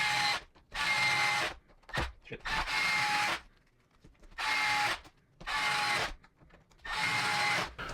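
A power driver spins screws into an SCX10 III RC crawler chassis in several whirring bursts of about a second each, separated by short pauses, close and fairly loud with no talk.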